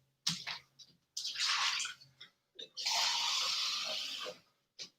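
Water is poured into a cup for a kitchen density rainbow experiment, heard close up as several short splashing bursts of pouring separated by pauses.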